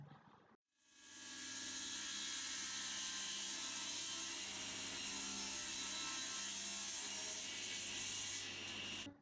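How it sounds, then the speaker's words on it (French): After a short silence, a table saw spins up and cuts wood strips steadily with a loud, sustained whine and hiss for several seconds, then winds down. "Découpe des bandes à la scie circulaire sur table."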